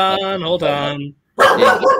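A dog barks and yips several times up close and loudly, in two bursts split by a short silence, with some whimpering mixed in.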